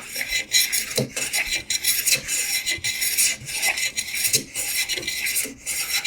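A freshly sharpened hand plane takes very thin shavings off a wood board in a quick series of close, rasping strokes, each a short scraping swish repeated about every half second, alone without talk.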